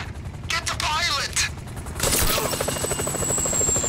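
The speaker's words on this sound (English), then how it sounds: "If I hit the chopper, everyone's gonna know we're here!" Helicopter from Grand Theft Auto V, its rotor thrum steady and close, with a sharp burst of gunfire-like impacts partway through and a rising whine after.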